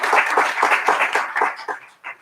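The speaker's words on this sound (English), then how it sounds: "we want to give him a round of applause and say thank you for his service" A round of applause for a long-serving board member at a board reorganization meeting, a short burst of hand claps from a small group that thins out and fades to scattered claps near the end.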